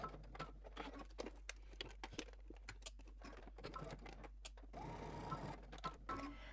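Sewing machine running in short bursts while back stitching a pocket seam on a sewing pattern garment, a steady whirring with repeated clicks and brief stops, close and fairly quiet.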